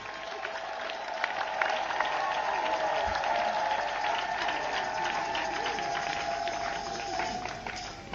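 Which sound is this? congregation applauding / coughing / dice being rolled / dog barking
congregation applauding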